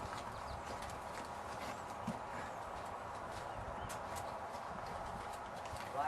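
Horse hooves clip-clopping in an even rhythm as the horse lunges in a circle around its handler, soft and fairly distant, steady footfalls over a quiet outdoor background.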